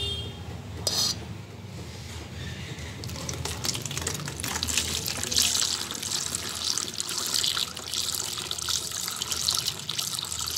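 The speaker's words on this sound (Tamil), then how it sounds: "நான் இங்கே அரிசி கழுவுறேன்" Tap water runs steadily into a sink while rice is washed by hand for a homemade organic garden fertilizer, with light clinks of a vessel and a soft continuous trickle throughout, no talking.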